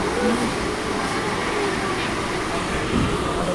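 A steady interior rumble and broad hiss of a moving train carriage, constant and fairly loud, with faint murmuring voices under the noise.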